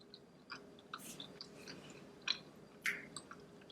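Soft, close chewing of a slice of homemade vegan cheese, with faint moist squishes and small clicks spread over a few seconds in a quiet room and no talking.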